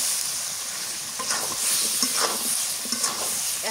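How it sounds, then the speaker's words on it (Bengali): Chicken legs and red potatoes sizzle in a fried spice paste, a dense, steady crackle and hiss with scraping stir strokes surfacing every second or so, fairly quiet and close with no talk. "মশলা কষানো হয়ে গেছে এবার দিয়ে দিই মুরগির ঠ্যাং সাথে কটা আলুও দিয়ে দিই"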